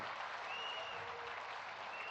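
Applause from an audience at an event honouring Yogi Adityanath at the Swarved Mandir inauguration, a steady, fairly faint wash of clapping with no voices over it.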